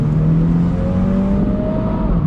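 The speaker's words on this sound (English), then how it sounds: "The pops from the exhaust just add that little extra something that makes this car very, very special." A 2020 Mini John Cooper Works convertible runs with a steady, loud engine and exhaust drone throughout, a continuous close rumble with a rising tone and no separate popping bursts standing out.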